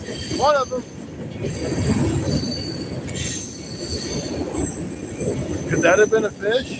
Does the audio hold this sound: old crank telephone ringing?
no